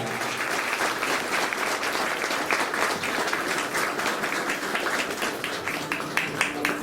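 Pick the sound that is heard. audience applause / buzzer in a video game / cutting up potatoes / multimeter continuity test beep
audience applause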